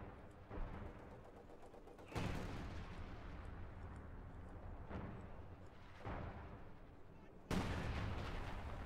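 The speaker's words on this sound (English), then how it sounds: "It is shooting back at base, and I don't know why it just continues to barrage into the base." An artillery gun in the World War II strategy game Company of Heroes 2 fires a barrage. The faint, deep booms are spaced several seconds apart, each followed by a long rumbling tail.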